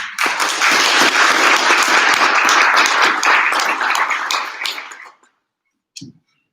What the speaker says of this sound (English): So a round of applause to all of those people that I just mentioned.